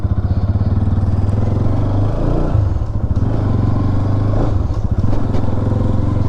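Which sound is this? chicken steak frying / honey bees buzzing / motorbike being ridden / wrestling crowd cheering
motorbike being ridden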